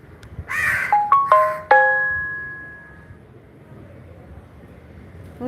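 A crow gives a few short, harsh caws close by, followed by ringing chime-like tones that fade slowly into quiet background.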